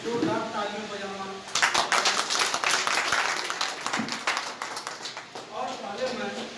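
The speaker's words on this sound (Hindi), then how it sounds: "इसके लिए मैं जोरदार तालियां बजाना" Audience clapping at a state-level training camp in Lucknow, a burst of dense applause rising after a spoken call and fading over several seconds, with a voice talking before and after.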